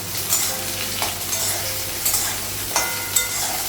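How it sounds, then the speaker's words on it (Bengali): Potatoes and green tomatoes frying in a pan give a steady close sizzle, broken by regular scraping stir strokes every half second or so, with no voices. "আলু আর টমেটো ভেজে দিয়েছি"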